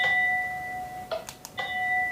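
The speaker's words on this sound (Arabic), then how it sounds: "يطلع صوت الجرس الطبيعي اللي احنا نسمعه ببيوتنا" A house doorbell in Minecraft rings with a short ding-dong chime, two bright tones sounding out clearly between held electronic notes, close and alone without speech.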